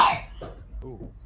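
A short, sharp cough bursts out at the start, followed by faint throat-clearing sounds and murmured voices at low level.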